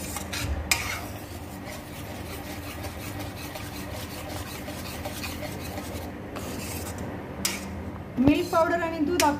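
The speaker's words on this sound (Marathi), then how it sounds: "मिल्क पावडर आणि दूध आपण सतत हलवत राहायला पाहिजे, नाहीतर गठुळ्या होऊ शकतात।" Milk powder is stirred into milk in a pan while making pedha, a continuous close scraping and rubbing of a spoon against the pan with occasional metallic clinks, a brief voice rising near the end.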